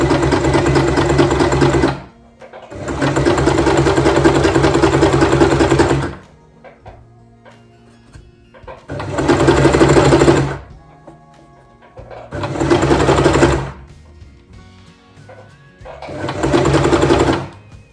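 A domestic sewing machine stitches fabric in five loud, close bursts of fast mechanical whirring, separated by pauses with soft clicks and handling noises as pins are pulled out between seams.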